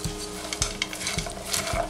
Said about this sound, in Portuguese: Vou dar uma misturadinha.